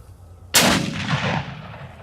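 A Ruger Precision Rifle fitted with a Vortex scope fires a single sharp, loud shot at an outdoor range, followed by a brief rolling echo that fades within about a second.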